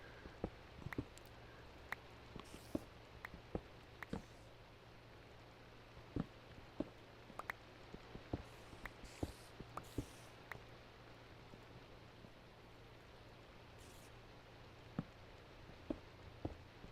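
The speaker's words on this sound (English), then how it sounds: "I think I hear rain above us." Rain in Minecraft heard from below ground in a long mine shaft, a soft continuous patter dotted with sparse, irregular drip-like clicks over several seconds, without voices.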